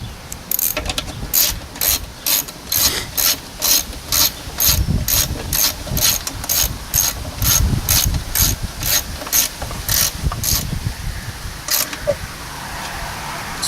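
A ratchet tightening bolts on an old lawn mower that had sat for years, a long run of regular sharp clicking strokes, close and loud, ending in quieter handling noise.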